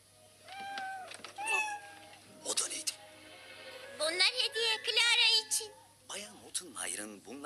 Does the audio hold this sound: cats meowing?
yes